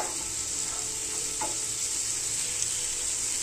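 Vegetables stirred with a spoonful of pav bhaji masala in a hot pan for burger patties, a steady close sizzle with light scraping strokes and no voices.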